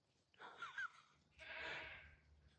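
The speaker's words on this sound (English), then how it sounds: "You can hear my goats." Two goats bleat in turn, a short wavering call followed by a longer, fuller one, moderately close over a quiet background.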